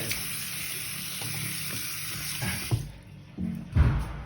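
Water runs and splashes as a toothbrush is wetted and rubbed over limescale in a bathroom, a steady close wash of flowing water with a few louder scrubbing splashes and knocks near the end.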